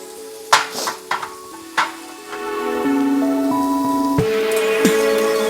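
Sliced onions frying in a pan for a paneer salad, with a few sharp clicks of adding and stirring up front, then a steady, loud sizzle that holds to the end, with no voices.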